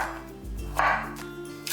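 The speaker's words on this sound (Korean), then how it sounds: "호박은 반으로 나눠 반달 모양으로 얇게 썰어주세요." Zucchini halved and sliced thinly into half-moons on a cutting board, three distinct knife chops landing at roughly even intervals, close and moderately loud, with no talk.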